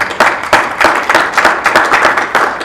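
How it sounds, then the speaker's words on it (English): An audience at a fan convention panel applauds its guests with dense, loud hand clapping that pulses in waves and continues steadily throughout. "Let's give them a round of applause"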